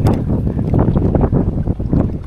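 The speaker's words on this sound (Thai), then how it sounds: "ลมแรงมาก" Strong wind gusts roar into the microphone outdoors near water, a loud continuous buffeting rumble with surging bursts lasting throughout.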